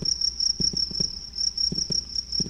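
Steady high-pitched cricket chirping from the video game Knytt Stories runs unbroken through a calm scene, with soft low rhythmic pulses of ambient music beneath and no voices.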